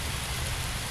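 Light rain falls steadily through dense jungle, a soft continuous hiss and patter of drops on leaves, close around the listener with no voices.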